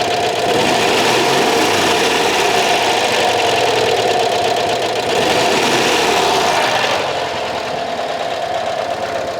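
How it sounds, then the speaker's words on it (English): A Citroen AZU engine runs steadily at close range with a busy, clattering, sewing-machine-like rhythm while its 6-volt dynamo charges, and a subtle shift in tone near the end. "And just to show you real time, the relay kicking in, the regulator kicking in."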